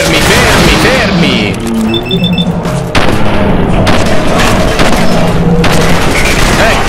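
A loud, dense explosion in the video game Fallout 4, with booming blasts and crashing debris over about seven seconds, and a few sharp synthetic tones partway through.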